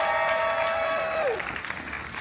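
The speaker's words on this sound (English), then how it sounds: "Everybody cheer for tiny Wolverine." Audience applause and cheering for a small child dressed as Wolverine at a Halloween Deadpool story-time show, a steady crowd roar over the whole moment with a sustained whistle-like tone that slides down and fades partway through.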